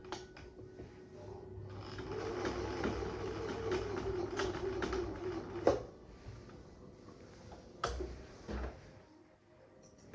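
A Husqvarna 6440 sewing machine running through heavy fabric, a whirring mechanical buzz with rattling needle strokes for a few seconds, then clunks and faint clicks as it stops and restarts, recorded close in a quiet room.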